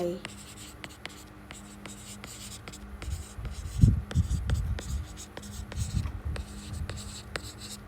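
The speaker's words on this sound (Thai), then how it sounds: "เดี๋ยวเขียนเขียนไว้ก่อนนะคะเดี๋ยวจะลืม" Pen writing on paper, a series of scratchy strokes and taps at an uneven pace, close up, with a quiet voice and rustling heard faintly underneath.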